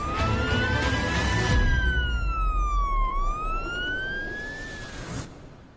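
A loud wailing ambulance siren rises and falls in long sweeps, close by, with traffic rumble beneath and no talking.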